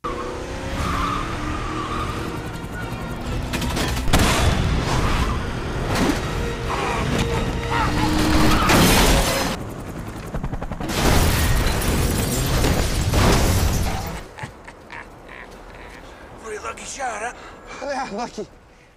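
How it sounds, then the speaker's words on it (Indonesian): A car crashes into a helicopter: loud roaring crash with tire screech and a booming explosion, sustained chaotic noise that cuts off into quieter rumbling and scattered clatter. "menabrakkan mobilnya hingga membuat helikopter tersebut hancur berantakan"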